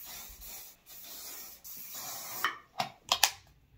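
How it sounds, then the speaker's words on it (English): Hairspray spraying onto hair in a short series of sharp hissing bursts, close and fairly loud, with quieter rustling before them. "This is the hairspray I use."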